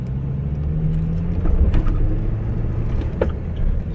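A car with a fuel pressure fault rolling up a driveway, a low close engine rumble and road noise with a few faint clicks and knocks, no talking.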